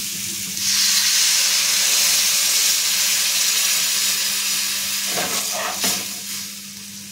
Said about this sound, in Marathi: आपल्याला त्याच्यामध्ये पाणी टाकून घ्यायचे